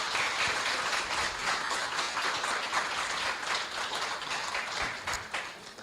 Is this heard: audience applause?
yes